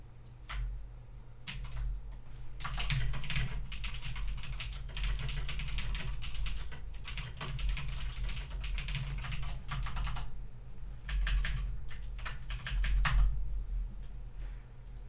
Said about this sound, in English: let's go ahead and just start typing out our next method